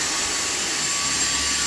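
A Dyson cordless vacuum cleaner runs steadily and loudly nearby, a constant high-pitched whine with airy motor noise, heard alone with no talking.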